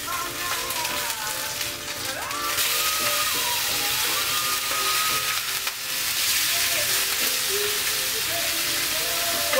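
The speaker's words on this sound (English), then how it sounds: "you hear it sizzling away" Loud, steady sizzling of salmon skin frying in a hot pan, a constant crackling hiss with faint clinks of cookware.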